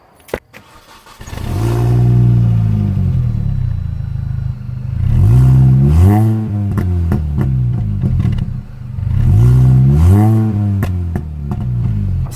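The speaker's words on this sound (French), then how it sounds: "là cette fois on a un compresseur, donc ça donne un effet de gros moteur Atmo" A supercharged car engine revs hard in three long bursts, each climbing in pitch before easing off, loud and close on a road drive with no talk, a brief clatter at the start.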